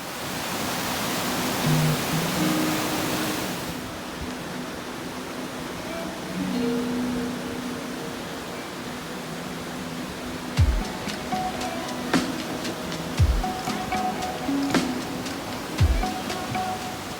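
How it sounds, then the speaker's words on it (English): A waterfall in Yosemite National Park roars as a steady broadband wash of rushing water, with a few low thumps near the end. "we heard rushing water, so we knew we were close"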